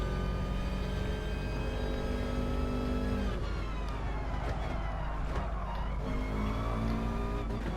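In Gran Turismo Sport, a race car's engine whines at high revs, then the pitch drops sharply under hard braking into a rough, tyre-scrubbing skid before the engine note climbs again, continuous and fairly quiet, with no talking.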